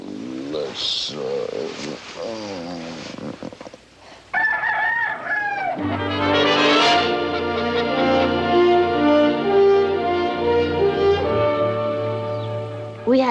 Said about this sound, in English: had a simple, modest little farm, 24 leghorns for me to look after